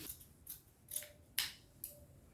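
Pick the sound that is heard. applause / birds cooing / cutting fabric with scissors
cutting fabric with scissors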